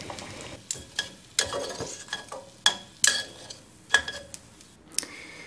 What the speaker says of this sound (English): we'll just put these slices into the butter.